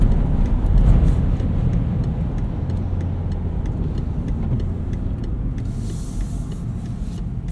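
Steady low rumble of a 2013 BMW X5 xDrive50i (E70) engine idling without stop-start, a smooth continuous hum heard from inside the cabin with no talk.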